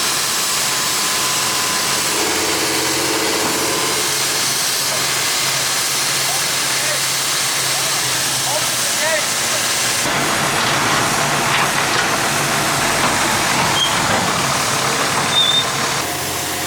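A dump truck engine runs loud and steady with a strong hissing, steam-like rush, and the tone shifts partway through as the load rises.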